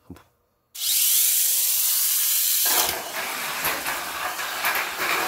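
A small, powerful electric motor in a toy race car whirs up suddenly after a brief pause, loud and high-pitched, then settles into a rougher, fluctuating buzz.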